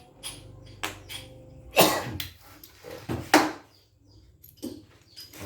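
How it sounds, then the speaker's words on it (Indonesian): A few sharp, short coughs spaced apart, close by, with faint clicks and a low hum in the background. "Batuk ini karena kurang rokok ini."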